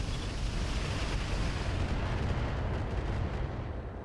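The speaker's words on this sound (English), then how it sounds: "that's still an engine destruction from an LRM ammo explosion" Sustained, loud, rumbling explosion in the mech combat video game RogueTech as an LRM ammo store detonates, destroying the engine; a dense broadband roar holds steady for several seconds with no talk.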